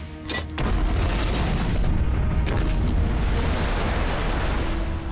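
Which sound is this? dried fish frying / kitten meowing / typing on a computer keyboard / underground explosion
underground explosion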